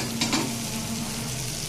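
Taro leaves frying in oil in a pan, a steady soft sizzle with a couple of brief scraping stirs near the start, close and fairly quiet throughout.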